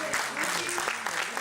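At a book presentation, an audience breaks into applause, a brief, dense burst of many hands clapping together with some voices mixed in.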